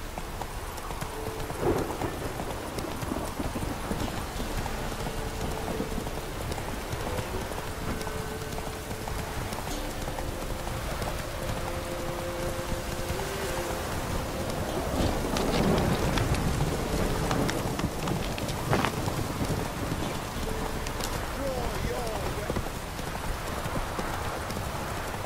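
Steady rain pours down in The Witcher 3: Wild Hunt across the whole stretch, with horse hooves clip-clopping through it and a low rumble of thunder swelling partway through.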